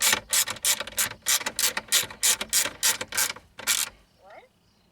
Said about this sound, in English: Hold on a second, I'm ratcheting.